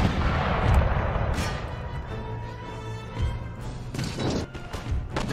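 Musket volleys crackle and boom in an Empire Total War battle, with repeated bursts of massed gunfire and deep rumbling reports. Several distinct volleys ring out over a continuous battlefield din.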